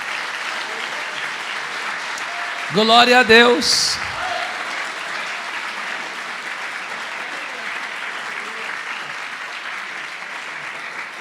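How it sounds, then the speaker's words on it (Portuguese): A church congregation applauds steadily throughout, a broad even wash of clapping, while a voice briefly speaks over it near the start. "As palmas que exalte ao Senhor."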